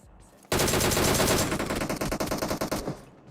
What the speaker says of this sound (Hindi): थोड़ी गोली चलाओ, उसके बाद रुक जाओ, उसके बाद दोबारा से गोली चलाना चालू करो